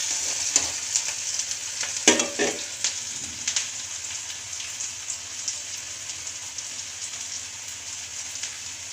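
Onions sautéing in a pan for a tomato masala give a steady soft sizzle with light crackles and a few louder stirring scrapes near the start, with no talk.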